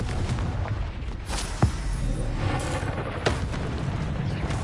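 Confringo blasting curse explosions in Hogwarts Legacy, dense rumbling booms with a couple of sharper bursts standing out amid continuous loud low-end game noise.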